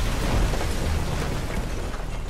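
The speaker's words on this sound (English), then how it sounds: "there is a massive explosion." A massive explosion destroys a bridge over the River Rhine during a wartime crossing, a dense continuous low rumble with heavy roaring debris that stays loud for the whole stretch, no voices.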